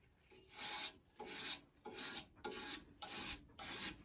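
A badly worn knife is reshaped by pushing its edge across sandpaper, giving six even, close rasping strokes with brief pauses between them and no voices.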